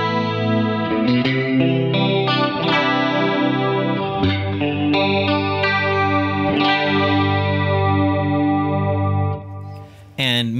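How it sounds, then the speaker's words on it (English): Electric guitar notes and chords shimmer through a lush tri-chorus effect from an Axe-Fx III, ringing and sustained, played up close and loud, with a brief pause near the end. "I've added the new tri-chorus sound"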